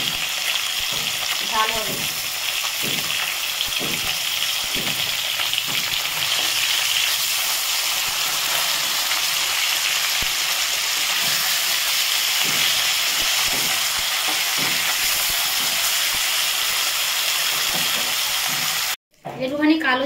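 Fish pieces fry in hot oil in a pan for a mustard curry, giving a loud, continuous hiss and crackle throughout, with a voice speaking briefly near the start and again at the very end.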